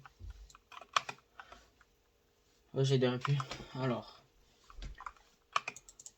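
Rapid computer keyboard typing and mouse clicks patter close by in irregular bursts, paused while someone speaks briefly in French.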